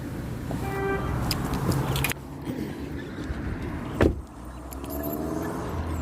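Car door shutting with a single solid thump a few seconds in, set against a quiet outdoor background with faint birdsong and small clicks around it.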